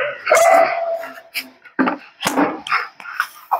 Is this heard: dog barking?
yes